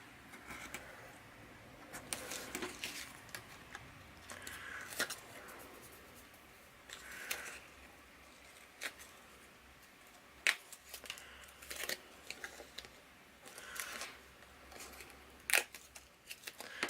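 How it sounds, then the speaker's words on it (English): Scissors snip through clean paper with no glue on it while a mermaid box craft is made, giving faint, scattered cuts and rustles spread irregularly across a quiet room. "it's easier to cut without glue all over it."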